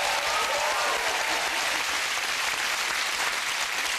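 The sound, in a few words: studio audience applause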